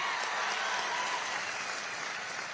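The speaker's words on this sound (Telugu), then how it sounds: "గట్టిగా చప్పట్లు కొట్టి ఆశీర్వదించండి." An audience at a public gathering applauds in a dense, steady wash of clapping that holds at even loudness throughout, heard from within the crowd.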